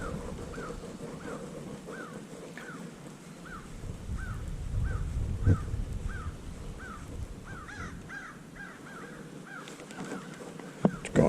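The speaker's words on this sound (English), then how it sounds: "Crow's up there laughing at me." A crow caws repeatedly above a lake during kayak bass fishing, a steady series of harsh calls at a moderate distance over outdoor wind and water noise.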